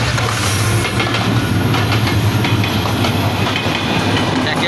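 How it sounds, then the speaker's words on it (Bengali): A train rolls through the Fulbari railway gate crossing in Khulna, close and loud, with a continuous rumble, rhythmic clickety-clack of wheels and a hissing, rattling wash of noise throughout, no talk audible. "ট্রেনও চলে আইছে এদিকে।"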